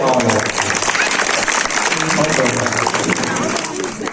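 A crowd at a village religious feast gathering claps loudly in a dense, continuous burst that stays strong throughout, with voices mixed in underneath.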